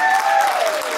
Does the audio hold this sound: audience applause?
yes